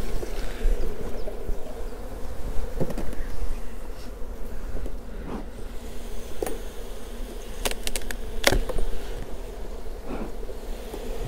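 A steady, dense drone of honeybees surrounds an opened hive in an apiary as supers are lifted, with scattered clicks and knocks of hive handling over the constant buzz.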